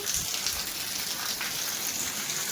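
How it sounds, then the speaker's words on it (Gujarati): Heavy rain pours down in a dense, unbroken hiss, fairly loud and steady from start to finish. "અત્યારે તમે જોઈ શકો છો કે વરસાદ ફૂલ ચાલુ થઈ ગયો"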